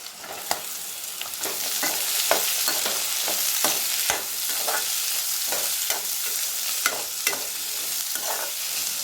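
Garlic sizzles loudly in a pan while it is stirred for a crab masala, a constant hissing fry punctuated by frequent sharp spatula scrapes and knocks against the pan.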